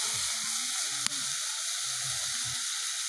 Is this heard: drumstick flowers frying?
yes